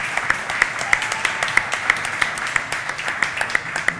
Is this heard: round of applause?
yes